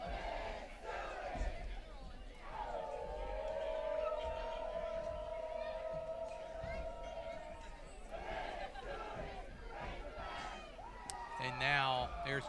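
A student section at a high school football game chants the hog call, a long sustained group holler rising over the steady roar of a large crowd, with chatter and cheering around it.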